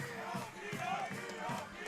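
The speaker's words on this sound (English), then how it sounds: "See the crowd yelling D up." A high school football crowd at an Oologah Mustangs at Fort Gibson Tigers game yells and chants for defense, a broad sustained roar of many voices with rising and falling shouts.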